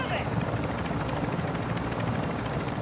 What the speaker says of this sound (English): Since we're flying across the map, we might as well make good use of this.